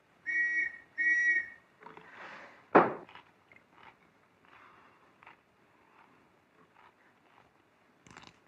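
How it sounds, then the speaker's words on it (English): A police-style whistle blown twice in short steady blasts, each about half a second, loud and close, followed by scattered faint rustles and small knocks in a quiet room in a 1930s suspense film. "The whistle that was blowing just now."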